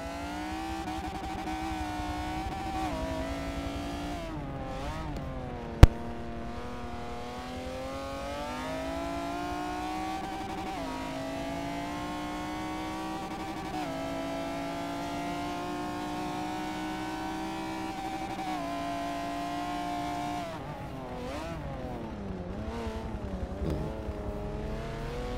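A McLaren F1 GT race car races around the Nürburgring GP circuit, its engine howling in long, sustained pitch sweeps through the gears, with a single sharp click early on and shifting revs near the end.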